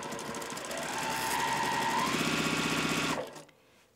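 A sewing machine runs steadily, stitching a quarter-inch seam on a quilt block, close up with a rapid mechanical rattle and motor whine that then stops abruptly.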